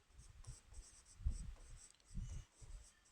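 Marker or chalk writing on a board during an English grammar lesson, a few short scratchy strokes in bursts, close and fairly quiet.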